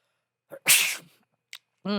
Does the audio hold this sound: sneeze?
yes